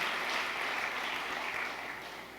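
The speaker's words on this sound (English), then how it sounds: "give a round of applause to Max and the team for this great conference" Conference audience applauding at a sales event in San Francisco, a steady, fairly faint wash of clapping that holds throughout and slowly tapers off.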